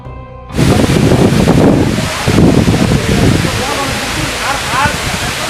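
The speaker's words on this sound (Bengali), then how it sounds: "বিলাইছড়ি উপজেলার চমৎকার কিছু ঝর্ণার ভিডিও চিত্র" A waterfall in Bilaichhari, Rangamati, gives a loud, continuous roar, with gusty buffeting rising and falling over it near the microphone.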